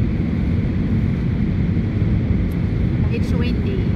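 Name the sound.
wind during aircraft landing approach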